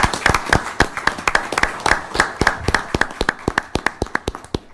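An audience gives a round of applause for Officer DeGeorge at a Mayor's Award of Excellence ceremony, steady sharp claps from a small group, fairly close, thinning out toward the end with no talking.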